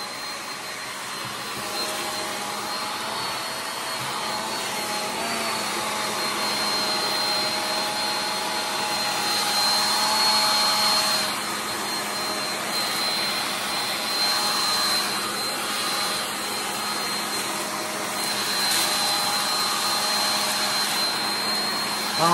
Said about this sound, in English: let's finish blow drying